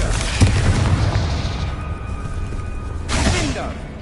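A Confringo explosion spell goes off in Hogwarts Legacy, a loud booming blast with a rumbling tail and a second burst near the end, layered over game sound.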